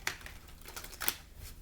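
Tarot cards being shuffled by hand, a faint, soft riffle and a few light papery flicks in a short quiet burst, with no voice over it.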